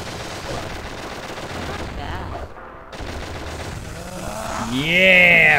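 Gunfire from a gun in the Shadow the Hedgehog video game: a dense, continuous rattle of rapid shots under loud game music and effects, with a brief drop in the middle before the barrage resumes and swells.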